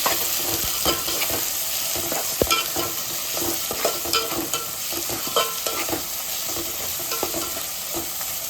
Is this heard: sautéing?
yes